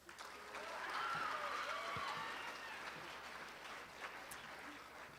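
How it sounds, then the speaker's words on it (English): A graduating senior named Luke Smith gets a round of applause from an audience, soft and somewhat distant clapping that swells briefly and then holds steady for a few seconds. "Please have a nice round of applause for Luke Smith."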